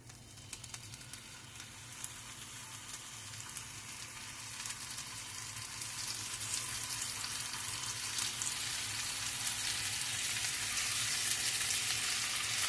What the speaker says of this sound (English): We're going to fry 4 pieces.